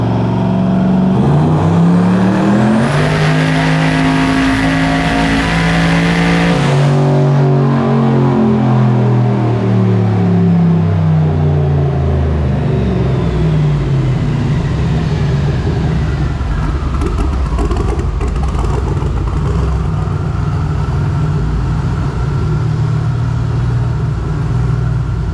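A twin-turbo LS-swapped Ford Falcon revs hard on a boost pull, its engine note climbing and dropping in loud, sustained sweeps close by, with no talk over it.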